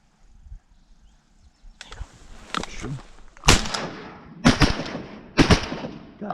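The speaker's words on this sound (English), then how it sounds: "I shot behind it twice, and then the third shot I hit it." Three loud shotgun blasts spaced about a second apart during a hunt in a flooded corn field, each with a sharp crack and trailing echo, following quieter rustling and movement.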